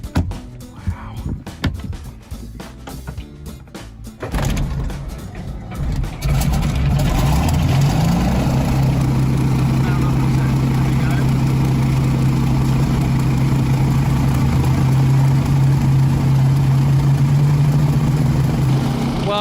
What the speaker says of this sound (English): Waiting for Andrew, and we're going to start the engines